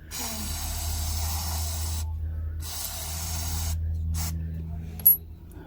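Steady hissing of brake cleaner spray in bursts, pausing briefly between, during rear brake maintenance on a TVS Jupiter scooter, with a low engine-like hum underneath and a sharp clink near the end.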